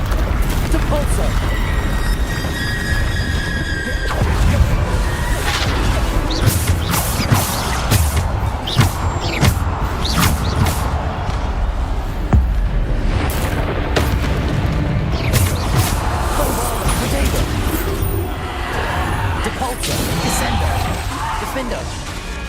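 Bombarda explosion spells in Hogwarts Legacy boom and crash again and again amid dense combat noise, loud thuds and smashing impacts over a continuous din.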